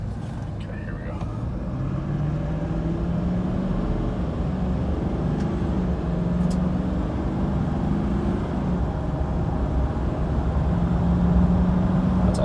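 A 2011 GMC Sierra 2500 Denali pickup accelerates on a test drive, its engine a steady, rising drone heard from inside the cab with road noise. A person speaks over it.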